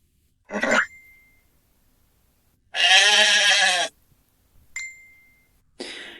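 Cow and horse calls, a short rough grunt, then a long drawn-out bellowing call, followed by two brief squeals, each standing alone against silence.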